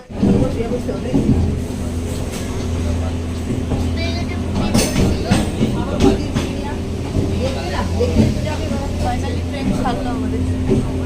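A passenger train pulls out a few minutes behind schedule, with a steady low rumble and broadband rolling noise that holds for the whole stretch, heard from on or near the train amid faint background voices.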